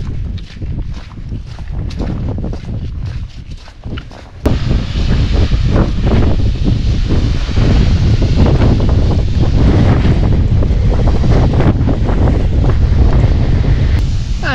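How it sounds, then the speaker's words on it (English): Wind blowing hard across Kinder Scout moorland, rushing and buffeting the microphone, moderate at first, then suddenly stronger and steady for the rest. "It is windy, but the wind is just more northerly"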